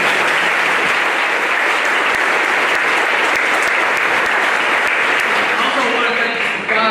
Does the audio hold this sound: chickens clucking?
no